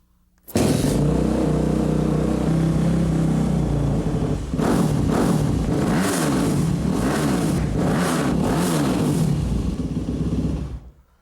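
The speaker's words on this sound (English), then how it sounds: "we didn't get a chance to hear this 4-stroke thump" A four-stroke motocross bike engine is kicked to life and idles loudly with a thumping beat, then revs repeatedly in several rising bursts before shutting off.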